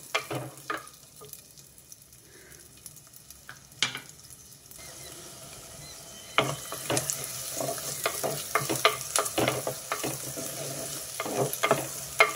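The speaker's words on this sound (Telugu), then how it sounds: "డైరెక్ట్గా ఉల్లిపాయలు, పచ్చిమిర్చి వేసేసా. ఇవి కొంచెం వేగనిస్తా." Sliced onions and green chillies fry in a pan for a gongura chana dal curry; a quieter sizzle with sparse spatula taps swells after a few seconds into louder frying and frequent clattering stirs, close up, no talking.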